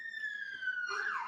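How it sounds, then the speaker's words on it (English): A police siren wails in the distance, its pitch sliding down and then sweeping back up, faint but clear. "So sorry for the police siren in the background"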